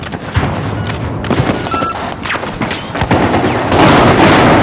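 Explosions and gunfire in the video game Battlefield 4 on PS3, a chaotic run of sharp blasts and cracks that builds into a loud, sustained roar near the end.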